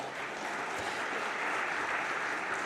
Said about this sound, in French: On peut l'applaudir même si elle n'est pas là.